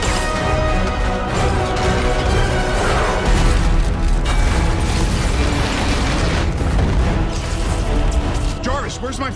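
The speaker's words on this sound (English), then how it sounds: "My favorite action scene in the film was when Tony Stark's mansion was destroyed by the Mandarin's army" Loud, dense rumbling explosions and crashing debris as Tony Stark's mansion is destroyed in Iron Man 3, continuous and heavy, with dialogue layered over the chaos.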